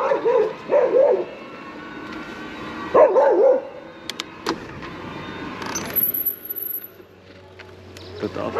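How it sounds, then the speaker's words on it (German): A dog barks in short bursts outdoors along a path during a bikepacking ride, with a few sharp yaps early on and another cluster midway, amid rustling and faint clatter, no talk. "außerdem bellt der Hund"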